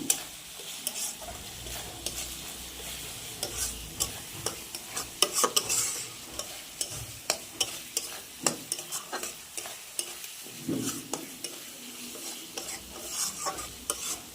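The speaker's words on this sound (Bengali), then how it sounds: "এটা দিয়ে একটু ভালোভাবে একটু নাড়াচাড়া করে নেব" Raw banana kofta masala with garam masala powder being stirred in sizzling oil in a pan, with steady scraping strokes and soft frying crackle close up, no talking.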